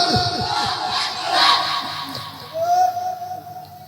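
A large outdoor crowd at a Bangladeshi religious rally roars the Takbir slogan in loud, swelling collective shouts, rising and falling in two waves.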